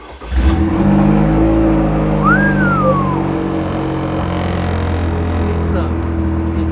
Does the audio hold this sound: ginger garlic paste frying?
no